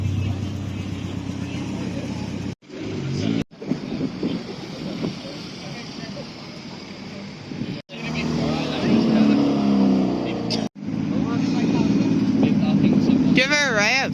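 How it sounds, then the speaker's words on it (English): At a car meet in Portrush, a car engine revs loudly in repeated bursts with short gaps between them, heavy wind buffeting the microphone, and voices talking in the background. "Give her a rev."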